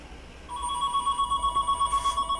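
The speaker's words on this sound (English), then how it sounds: "A phone call." A telephone rings with an incoming call inside a small aircraft cockpit, a steady electronic tone pulsing in even repeated bursts over the constant drone of the engine, with no talking.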